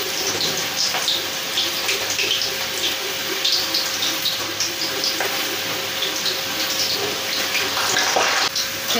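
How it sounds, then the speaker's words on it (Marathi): Khari dal fries in oil over a low gas flame, with dense, steady bubbling and crackling sizzle that stays loud and close throughout the whole stretch. "हे आता तळत आलेले आहेत आणि हे बुडबुड्या अशा कमी झालेल्या आहेत तेलावरच्या"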